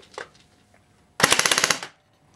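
A G36C airsoft rifle fires a rapid burst of about ten shots over a chronograph, a sharp rattling volley close by after a brief quiet click, then silence.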